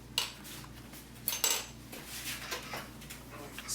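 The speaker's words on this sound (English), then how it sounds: "Stick it in the oven" A metal baking tray of beans, prepared for dehydrating, clatters and scrapes as it slides onto an oven rack, with several close metallic clinks and knocks over low kitchen hum.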